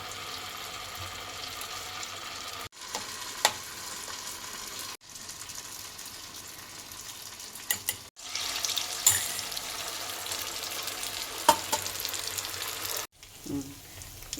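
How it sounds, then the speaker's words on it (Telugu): Wheat purnalu, sweet stuffed dumplings, fry in hot oil with a steady bubbling sizzle broken by brief quiet gaps and a few sharp clinks and taps from the pan. "ఇట్లా బాగా గోల్డ్ కలర్లో వచ్చే వరకు ఇవి వేగనివ్వాలి"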